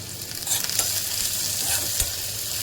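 Chopped onion, crushed garlic and cut green chillies sizzling in a pan with salt for a fasting meal, a steady close frying hiss with a few stirring scrapes, no talk.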